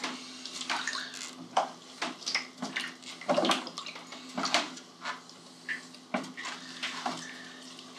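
Water sloshing and splashing as a kallitype print is rinsed in a mildly acidic bath, with irregular gentle swishes and small knocks of the tray, close by and fairly quiet.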